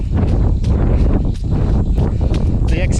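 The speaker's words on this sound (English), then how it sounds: "It's just got really windy and the rain's coming in again." Steady, loud wind buffeting the microphone, a continuous low rumbling roar with gusty surges throughout.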